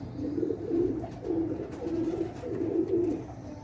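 Pigeons of a high-quality Sialkoti breed coo from a rooftop loft in Sialkot, with repeated low throaty coos rolling in overlapping waves, close and steady for the whole stretch with no talk.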